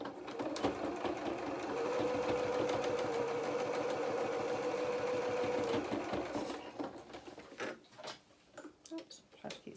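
A sewing machine stitches fabric for a jacket with a steady, rapid mechanical whir and ticking for several seconds, then stops and gives way to scattered clicks and handling noises up close.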